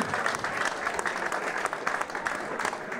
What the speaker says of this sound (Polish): Zapraszamy, wielkie brawa dla niego.